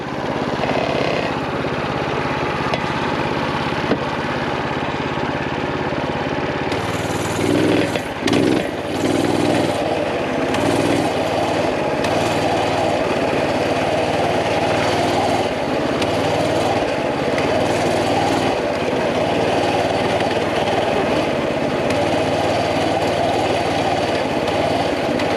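Small engine on a Coleman CT200U mini bike running steadily, a loud continuous buzzy drone with a brief rev and stutter partway through, then holding a constant idle-like hum.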